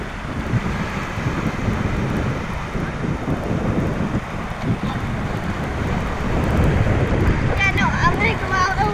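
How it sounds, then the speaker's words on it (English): Small ocean waves at a beach wash in as a steady, loud broadband rush with heavy wind buffeting the microphone throughout, and a voice briefly audible near the end. "Waves aren't very big today."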